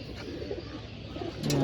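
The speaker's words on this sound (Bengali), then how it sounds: "এই যে একটা কবুতর, অনেক সুন্দর কবুতর" Pigeons coo in a loft, low repeated coos layered over each other, with a louder, nearer coo rising near the end over a steady background of birds.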